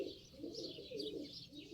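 Pigeons coo softly and continuously, a faint, steady, low rolling murmur with higher bird chirps mixed in.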